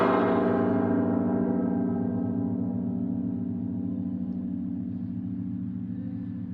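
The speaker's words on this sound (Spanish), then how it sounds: "Y aquí en México también sonaron las campanas de la Catedral Metropolitana de la Ciudad de México en honor al Papa Francisco" Large church bells of the Metropolitan Cathedral in Mexico City tolling before dawn in honor of Pope Francis, a deep resonant hum decaying slowly with a low rumble beneath.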